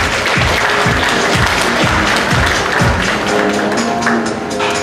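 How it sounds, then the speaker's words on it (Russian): Audience at a fashion show masterclass in a shopping mall applauds with dense, loud, steady clapping throughout, with a rhythmic thumping beat of music running underneath. "Ваши аплодисменты"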